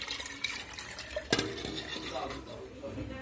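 Rainwater being strained into a cooking pot: a continuous close splashing and trickling pour with one brief clatter partway through, while a person talks.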